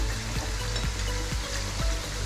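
Ginger-garlic paste sizzles with mixed vegetables in a pan for veg pulao, a continuous close frying hiss broken by regular stirring scrapes about every half second.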